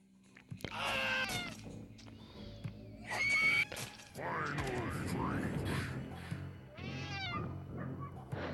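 Cats meow and yowl in a Friday the 13th killer puzzle video game, several loud wavering cries in a row over a steady game backdrop, with brief pauses between the calls.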